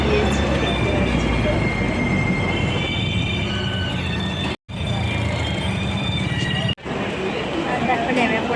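A train rolls into a station with loud, continuous rumbling and squealing wheels on the rails, the noise broken by two brief dropouts, while a voice talks over it.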